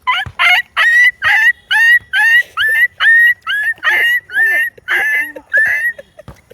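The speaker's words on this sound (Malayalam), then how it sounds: "നീ ചെറിയ പട്ടിക്കുട്ടി." A puppy gives a rapid series of high, close whimpering yelps and short barks in an even rhythm, with a faint voice in the background.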